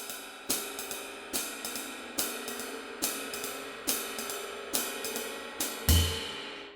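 Jazz time on a drum kit: steady ride cymbal pattern with the hi-hat closing on beats 2 and 4, repeating evenly at a moderate tempo, close and clear with no talking, ending on a heavier low hit.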